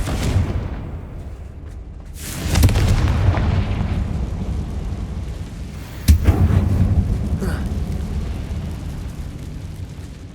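In Hogwarts Legacy, a Confringo fire spell bursts inside an abandoned mine tomb as a deep booming blast, then a second explosion follows a few seconds later, both rolling and rumbling loudly with no voices.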